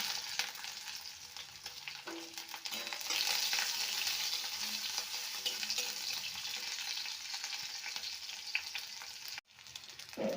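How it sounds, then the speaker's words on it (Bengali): Chopped onions fry in white oil in a wok, giving a steady, close sizzle with scraping stirs and light clinks throughout and a brief dip near the end, with no talking. "এবার এর মধ্যে পেঁয়াজ কুচিগুলো দিয়ে দিলাম"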